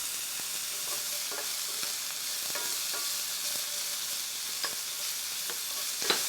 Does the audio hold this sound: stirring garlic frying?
yes